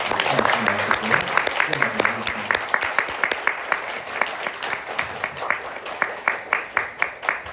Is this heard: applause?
yes